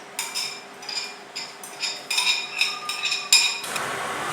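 A spoon scrapes and clinks against a metal pot while soaked rice and milk are stirred for firni, about eight bright metallic strokes in a steady rhythm, close and clear, ending in a softer rustle.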